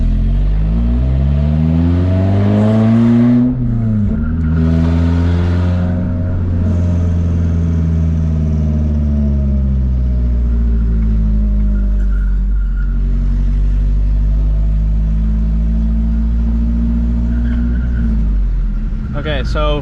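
A Toyota RAV4 with a swapped 2AR engine hums and revs loudly up and down while gears are being shifted, a steady engine drone rising and falling, with a person talking over it.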